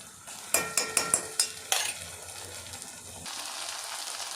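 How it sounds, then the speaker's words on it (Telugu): Tomato puree fries for a cashew mushroom masala curry, opening with a quick run of sharp spoon clacks against the pan before settling into a steady soft sizzle. "టమాటా పేస్ట్ కూడా వేగిపోతుంది చూసారా?"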